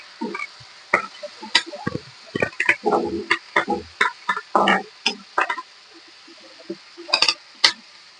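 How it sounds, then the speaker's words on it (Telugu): Curry leaf sprigs are tossed into a pan and stirred, giving a string of sharp, separate clinks, taps and crackles at an uneven rhythm, close by and fairly loud, with no talking. "ఇప్పుడు ఇందులోనే కరివేపాకు రెబ్బలు కూడా వేసేసుకుందాము ఒకసారి బాగా కలిపేద్దాము"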